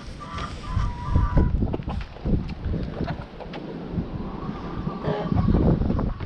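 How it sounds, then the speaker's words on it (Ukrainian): Gusty wind buffeting the microphone in rumbling surges, with faint bird calls and outdoor noise in the background. "Вітер сильний."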